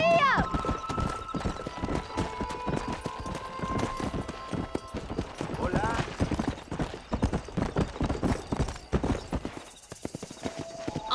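Horses galloping in Red Dead Redemption, rapid clip-clopping hooves with occasional whinnies and creaking tack, a voice calling out over the riding, hooves continuing steadily to the end.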